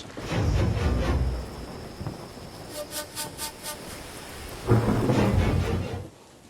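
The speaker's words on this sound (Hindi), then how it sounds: "बाहर तो बारिश। अचानक शुरू हो गई।" Sudden heavy rain pours down in a dense, steady roar, with a deep rumble of thunder at the start and a louder roll near the end. A few soft tonal pulses sound in between.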